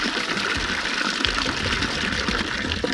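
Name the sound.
water running from a push tap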